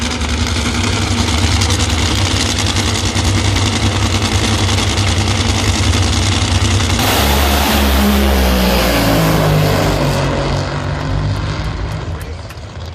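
Drag racing cars at the U.S. Nationals eliminations launch down the strip with a loud, dense engine roar that shifts pitch midway and then recedes slightly as the cars pull away.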